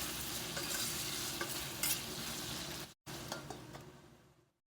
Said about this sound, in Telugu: ఇప్పుడు ఈ టమాటా ముక్కల్ని కూడా యాడ్ చేసేసి మరొక్కసారి కలిపి